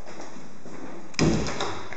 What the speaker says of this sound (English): There's a door here that will close this off.